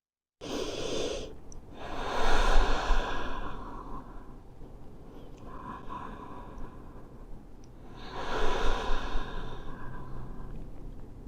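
Two deep yoga breaths, close and clear, each a long airy inhale flowing into a slower, softer exhale, with no talking over them.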